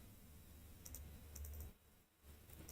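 Names being typed on a computer keyboard, with quiet keystrokes clicking in uneven bursts over a low steady hum, pausing briefly before resuming.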